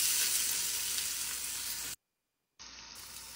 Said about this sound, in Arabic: هكشن البصل إلين ما يدبل